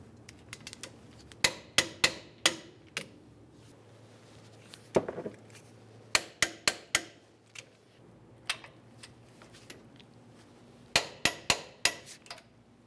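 Metallic clicks and knocks from tightening the wheel hub bolts to 120 foot-pounds on a 2005-2010 Dodge Dakota front hub. They come in sharp, close bursts of several rapid clicks, separated by quiet pauses, with no talking.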